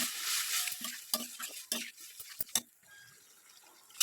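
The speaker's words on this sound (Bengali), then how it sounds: "বেশ কিছুটা সময় কষানো হয়ে যাওয়ার পর এর মধ্যে এবার আমি আবার একটু জল অ্যাড করলাম" Paneer vegetable curry being stirred in a pan just after water is added, giving soft sizzling with repeated sharp scraping and clinking strokes of the spoon, close and moderately loud.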